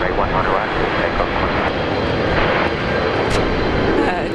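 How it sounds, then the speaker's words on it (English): A Qantas jet at Brisbane Airport taking off from runway 19 right: a steady, broad roar of the engines at moderate distance, with a voice speaking under it. "Qantas 1872, runway 19 right, clear for takeoff."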